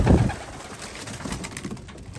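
Racing pigeons coo in low, repeated murmurs close by, a steady soft burble with a brief louder burst at the start and no talking.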